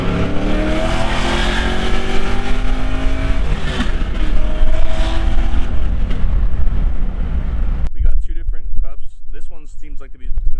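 A supercharged Cadillac CTS-V first-generation V1 blasts its loud exhaust up close, a sustained roaring rev that rises and holds, then cuts off abruptly, followed by people talking excitedly.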